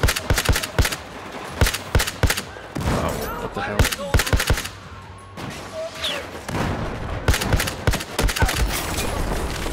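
Battlefield 4 video game gunfire from an SKS rifle and surrounding weapons, sharp repeated shots in rapid clusters with pauses between, loud and close, while someone briefly speaks over the firing.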